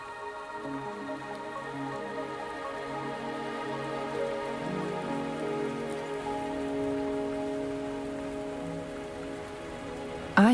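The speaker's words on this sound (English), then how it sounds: "Are you trapped here by the rain?" Steady rain falls in the video game Wuthering Waves, a dense continuous patter on surfaces, with a low musical drone under it and no talking.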